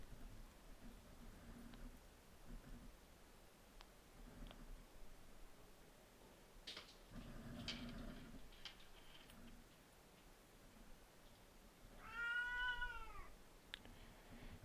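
A cat meows once up close around the twelfth second, a short rising and falling cry amid quiet room noise and faint handling sounds during a crochet session.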